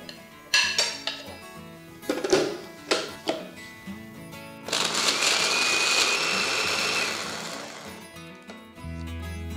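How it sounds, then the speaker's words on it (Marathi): Fried cashews, almonds, poppy seeds, dried coconut and sesame seeds are ground to a fine powder in a kitchen grinder, with loud continuous whirring after a few clinks and knocks of the jar, then a short low hum at the end. "आता हे तळलेले काजू, बदाम, खसखस, खोबरं, तीळ हेही घालत आणि याचीही जितकी शक्य असेल तितकी बारीक पूड तयार करून घ्यायची."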